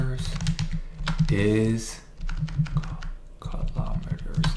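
Computer keyboard typing while writing Java code, with quick clusters of keystrokes clicking along under a man's continuous speech.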